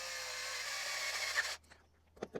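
Small screws being driven back into a plastic Traxxas TQi radio part, a steady close whirring drive for about a second and a half, then stopping, followed by a few faint handling clicks.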